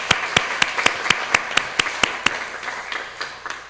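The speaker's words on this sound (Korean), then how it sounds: "우리 하나님께 우리 먼저 영광의 박수로 우리 감사의 마음을 드리도록 하겠습니다." A church congregation at a Sunday service claps in rhythm, about a dozen loud, evenly spaced unison claps that thin into scattered clapping toward the end.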